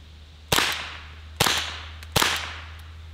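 Three sharp, loud reports from a Ruger 10-22 .22 long rifle fire at a steady pace, each one a crisp crack with a short ringing decay, over a constant low hum and no talking.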